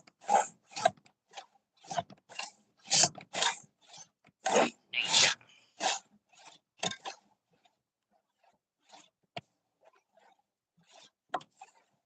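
A hand saw rasps through a dead log that has lain in the woods for some time, in a run of close, rhythmic strokes, then a few scattered scrapes and clicks with quiet gaps between them.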